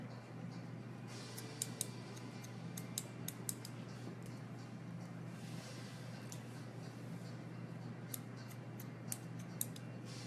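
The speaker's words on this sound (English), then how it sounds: "So I deep point cut to take out bulk." Rapid, crisp snips of scissors point cutting hair to remove bulk, in quick irregular bursts, close up over a steady low background hum.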